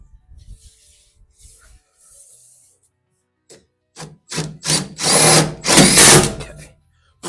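Power drill whirring in short bursts as it drives a self-tapping screw into Volkswagen Bug body metal, a few faint blips first, then several loud close spurts with the longest near the end.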